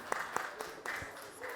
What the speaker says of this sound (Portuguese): Então, salva de palmas aí para a Lorena.